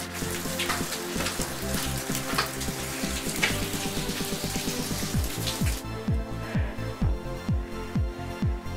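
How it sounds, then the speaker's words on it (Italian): Rain pattering down during a sunshower on a mountain trail in Val Codera, a steady close patter of drops on surfaces, with a brief rhythmic tapping near the end and no talk. "piove con il sole."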